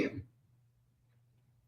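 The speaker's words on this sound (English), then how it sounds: "I can see you coughing, so don't do it too long" A single short cough from a person during a guided breathing meditation, close and fairly loud at the start, then fading into quiet room hum.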